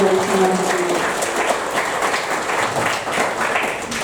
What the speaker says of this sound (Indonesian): Mohon tepuk tangan yang meriah sekali lagi dari semuanya.